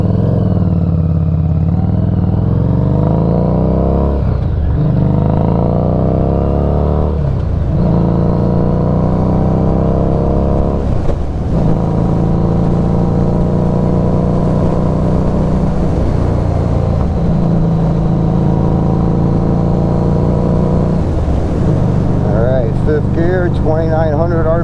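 A 2021 Harley-Davidson Street 500 rides along with a steady loud engine drone that rises and dips through repeated gear changes, heavy wind rush over everything, and no clear voice.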